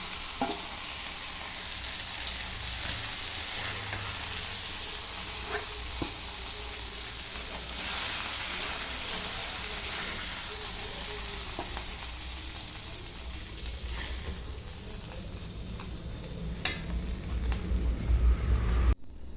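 Fish frying in hot oil in a pan on a stove, a constant crackling hiss with occasional pops, close and steady throughout.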